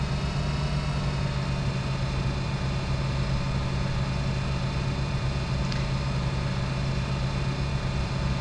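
Farming Simulator tractor pulling a lowered cultivator under GPS steering, its engine a steady, even mid-low drone held at constant load throughout, alone and unbroken.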